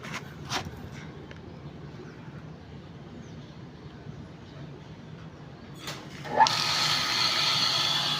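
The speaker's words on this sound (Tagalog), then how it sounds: "Dito tayo mag open sa discharge natin para bumaba yung pressure ng tubig." Water rushing out of an opened discharge valve on a water pump system, a few faint clicks first, then a sudden loud hiss of flowing water that keeps going.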